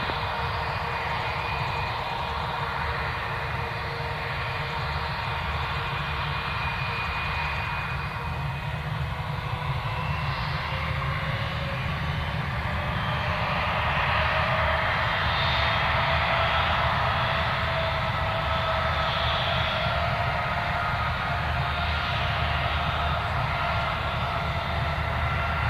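A Jetstar jet airliner takes off from runway 03, its engines a steady, sustained roar with a slowly shifting whine that swells slightly midway and stays fairly near throughout.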